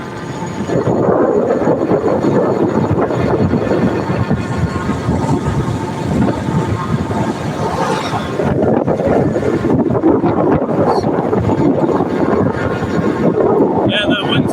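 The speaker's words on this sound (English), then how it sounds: "that wind's throwing me off a little bit" Steady, loud, roaring wind blows without a break inside a video game, a dense, continuous rush that lasts the whole stretch.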